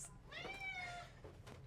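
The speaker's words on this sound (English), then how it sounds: "He is just meowing." A pet cat meows indoors, one drawn-out, rising-and-falling call up close followed by a shorter, fainter meow, with quiet room noise underneath.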